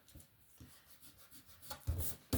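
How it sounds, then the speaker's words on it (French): A pencil eraser rubs over paper in short, soft back-and-forth strokes during scrapbook work, faint and close, ending with a few firmer scrubs. "Où est ma gomme? Je vais gommer ça."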